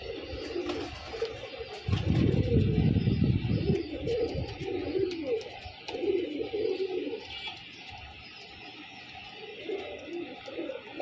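A flock of Giribaz and coloured fancy pigeons coos continuously nearby, with a louder, denser swell of overlapping coos early on that then settles into repeated softer rolling calls.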